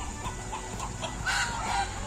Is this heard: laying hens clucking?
yes